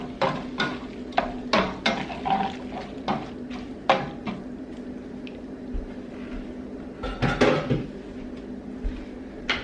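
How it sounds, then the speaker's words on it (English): Soy sauce and sesame oil being stirred around in a pan, with soft scraping, squishing and wet clinks of the utensil in an irregular rhythm, close and fairly quiet. "Mix that around real good."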